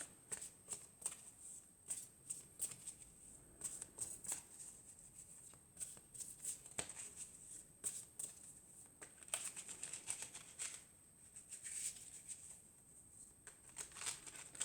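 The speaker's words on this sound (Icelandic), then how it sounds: "Best að stokka þetta dálítið vel." A deck of cards being shuffled thoroughly, with repeated crisp riffles and flutters in quick bursts, close and fairly quiet, and no talk over it.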